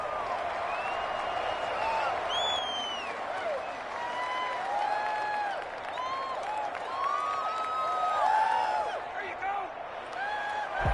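A stadium crowd in the Madden football video game roars and applauds in a continuous, loud wash, with whistles and cheers rising over the top.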